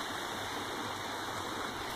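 A small waterfall on a creek pours steadily, a continuous broadband rushing wash heard close and even throughout, with no voices.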